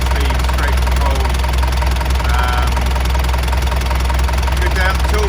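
A Mercedes OM314 diesel truck engine, newly installed in a Green Goddess, idles with a steady, loud rumble and faint ticking, while a voice talks over it.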